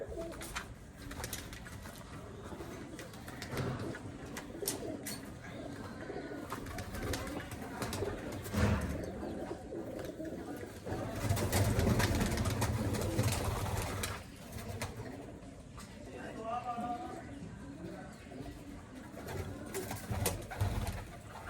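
Pigeons at a loft coo softly in low, rolling murmurs amid fluttering and general outdoor background noise, fairly faint and continuous.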